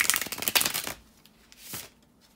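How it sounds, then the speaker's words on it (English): Tarot cards being shuffled by hand: a dense run of papery riffling and flicking for about a second, then a brief quieter pass and one more short riffle, close and alone. "to shuffle the tarot cards"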